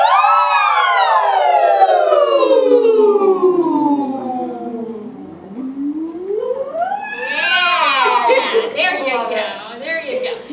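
Several voices imitate a siren together, gliding from a high whoop down low, then sweeping back up in wavering, overlapping rising and falling wails.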